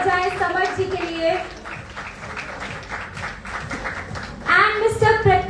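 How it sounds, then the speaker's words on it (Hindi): Audience applause at a live Bhojpuri film event, scattered clapping running beneath someone speaking over a microphone, with her voice dominant at the start and end. "प्लीज जोरदार तालियां हो जाए समर्थ जी के लिए।"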